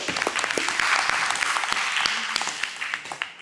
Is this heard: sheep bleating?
no